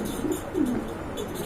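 Pigeons, a paired male and female, coo close by in low, throaty, rolling notes, two or three soft coos in quick succession against a steady background hiss.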